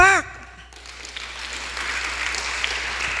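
A church congregation at a midweek service breaks into steady, sustained applause that fills the room. It begins right after a brief sung or spoken tone and grows slightly fuller as it continues.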